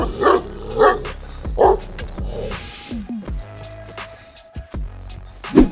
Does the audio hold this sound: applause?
no